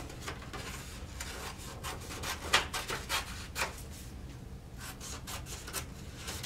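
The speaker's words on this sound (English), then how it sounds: "fold it in quarters again. So you're going to fold it both ways, get a nice seam" Paper folded into quarters and creased with steady rubbing and swishing strokes, close and moderately quiet, without any talking.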